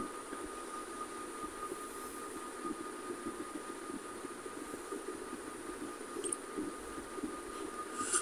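A crowded passenger train on the Phultala to Mongla line, heard from inside the carriage, gives a steady, continuous rumble and rattle of wheels on track throughout.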